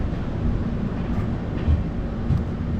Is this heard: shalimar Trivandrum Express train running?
yes